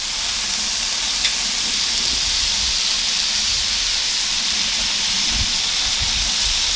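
Burger patties sear on a hot flat-top griddle with a loud, constant hiss and sizzle heard close up, steady throughout with a few faint clinks underneath.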